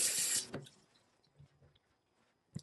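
Water splashes into a stainless steel sink in a short burst at the start, then fades to a few scattered drips and a light knock near the end, close and fairly quiet.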